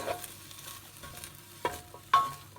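Bacon lardons frying in a pan, a low steady sizzle broken by a couple of sharp knocks and scrapes of a utensil against the pan, close by.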